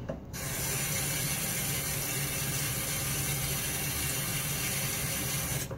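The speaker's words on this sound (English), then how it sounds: "Then let me get my face wet right quick." Water running and splashing at a bathroom sink as a face is wetted before a wet shave, a steady broadband rush and patter that begins abruptly and then holds evenly, close and alone with no talking.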